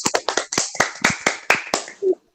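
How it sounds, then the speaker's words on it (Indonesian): Short burst of hand clapping from a few people in an online class, about eight or nine quick separate claps in an uneven rhythm, close and fairly loud, ending with a brief voiced sound. "Kita tepuk tangan buat Widya."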